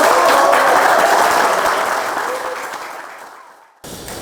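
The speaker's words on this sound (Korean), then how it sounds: "지금부터 정의당 제20대 대선 후보 선출 결과 발표 및 보고대회를 박수로 시작하겠습니다" Loud applause from the crowd opens the Justice Party's 20th presidential candidate nomination results event, then gradually dies away and cuts off abruptly near the end.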